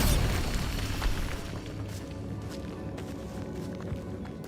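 Bombarda blasting spell in Hogwarts Legacy, a heavy low explosion already rumbling at the start and decaying into scattered debris and crackle, with faint movement sounds behind it.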